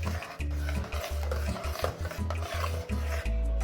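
Whisk stirring cornmeal porridge made with coconut milk in a pot, a rapid, close scraping and rubbing rhythm with steady strokes and no talking.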